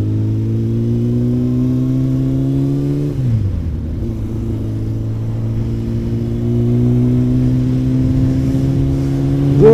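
Kawasaki motorcycle, a 400 cc bike, ridden through a city: a steady droning engine note dips as the rider eases off, then settles and slowly climbs again, loud and close, with no talking.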